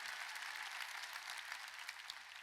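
A church congregation clapping together during a Sunday worship service, a dense, even wash of applause from many hands, fairly distant and continuous.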